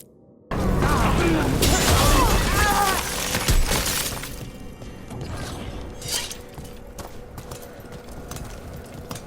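Chains shatter to free a bell in Dragon Age: The Veilguard, a sudden loud breaking crash with clanking metal that stays dense for a few seconds, then thins into quieter rumbling game ambience.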